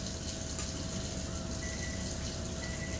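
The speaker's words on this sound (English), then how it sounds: "I keep adding a little bit of hot water at a time." Hot water poured steadily into a bowl while whisking, a constant close rushing wash of liquid that stays even throughout with no pauses or talk.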